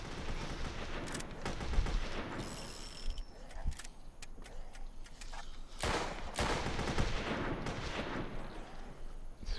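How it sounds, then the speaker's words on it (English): Rapid gunfire rings out in a zombie shooter video game, sharp bursts and single shots scattered irregularly over mechanical clatter and background game noise, fairly close and punchy. "Every time I shoot a zombie in the head with these guns, and it doesn't register as a headshot."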